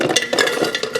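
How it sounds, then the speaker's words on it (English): Ice cubes dropping from an ice-making machine into a cup, a quick run of close, bright clinks and rattles packed together over about a second. "We grabbed the cup, switch our machine to ice making, and fill it up with ice."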